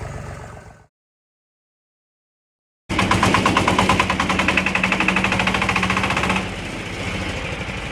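Shifeng 244 BFU mini tractor engine: a short burst, about two seconds of silence, then a loud close diesel clatter with rapid rhythmic knocking that drops slightly in level near the end.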